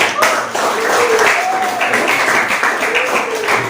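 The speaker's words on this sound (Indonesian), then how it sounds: "mari kita tepuk tangan untuk kelompoknya Anepina" Classroom students clapping for a presenting student group during a lesson, a continuous spread of light hand claps filling the room, with a voice speaking faintly beneath.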